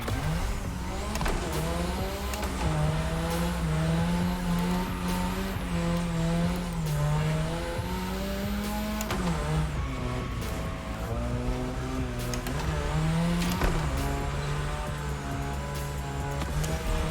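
A modded RX-7 in The Crew Motorfest racing game revs and holds a loud, buzzing engine tone that climbs and drops with gear changes, with brief tire squeal as it drives on and on.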